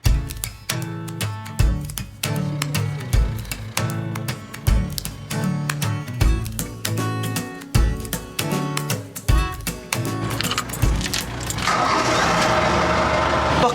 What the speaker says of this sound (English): The engine's purring or rumbling.